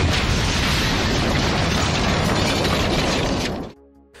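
A bomb blast inside a bar in a 1990s TV drama: a sustained, loud roaring explosion with crackling debris, holding steady for several seconds before cutting abruptly to near silence.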